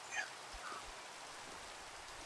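Rain falling in the video game Minecraft: a soft, even hiss of steady rainfall with faint patters, quiet and constant, with no talking over it.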